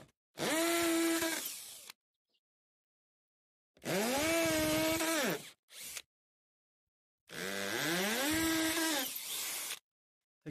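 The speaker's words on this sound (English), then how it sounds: "put it on a hammer drill if you've got it, or impact drill in this case" Impact drill fitted with a masonry bit boring into fibre cement board on a gutter job, three separate loud whining bursts of a few seconds each with pauses between, motor pitch rising and settling as it cuts.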